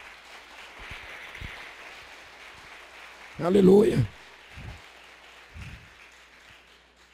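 A church congregation breaks into a short burst of applause at a worship service, loud for about half a second and then fading, with scattered voices and a spoken exclamation around it.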